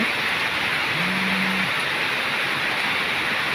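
Heavy rain pours during a storm in Sing Buri, Thailand: a loud, steady, dense hiss with no breaks, joined briefly by a low hum.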